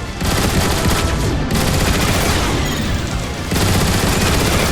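Gun turrets blasting at Decepticon Seekers in Transformers: War for Cybertron, loud sustained rapid-fire bursts in two long volleys with brief gaps.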